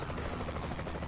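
Helicopter in the video game Saints Row: The Third, a steady, dense rotor roar holding at an even level throughout with no voices over it.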